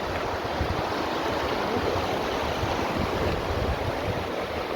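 Rushing mountain stream water near the Gangotri trek in the Himalayas, a steady, dense roar of flowing water close by with wind noise on the microphone, continuous throughout and no voices.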